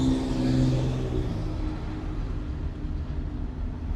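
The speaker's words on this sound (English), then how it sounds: "all the Porsches are firing up and leaving out" A group of Porsche sports cars starts up and pulls away on a backroad in British Columbia, giving a steady, fairly close engine rumble with a rising tone at the start that settles into continuous traffic noise, no talk.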